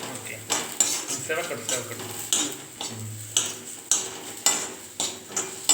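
Cashews deep frying in a pot for jeera pulao: sharp metal clinks and scrapes of a ladle against the pot recur every half second or so over a soft background sizzle, close and fairly loud.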